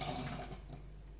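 Canned butter beans and their water pour and splash into a pan in one short, soft, continuous stream.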